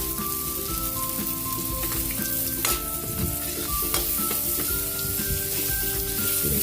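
Onions and pork ribs sizzle and fry loudly in a pan for pork rib caldereta, a steady crackling hiss with occasional stirring clatter and no talking.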